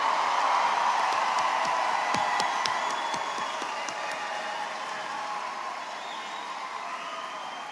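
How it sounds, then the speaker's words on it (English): A crowd at a high school graduation ceremony claps steadily at a distance, a broad wash of applause that gradually fades somewhat toward the end. "Let's give one more round of applause for our 2024 graduates."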